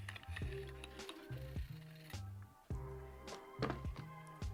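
Mechanical thunks and clicks as the upper body of an E&L T191 (QBZ-191) gas blowback airsoft rifle is pulled off its receiver, several close, sharp knocks with brief pauses between them.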